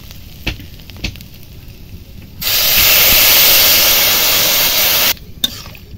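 Water poured into a hot pan of spiced frying jackfruit seeds, a sudden loud steaming hiss that bursts in, roars steadily for a few seconds and cuts off, framed by quieter sizzling and a few utensil knocks.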